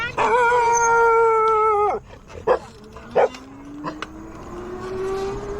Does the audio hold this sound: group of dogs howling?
yes